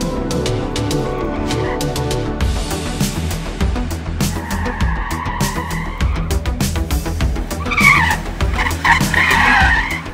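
A modified Subaru Levorg wagon skids around a skid pan, its engine roaring steadily while tyres squeal in long rising and falling howls, loud and close throughout without speech.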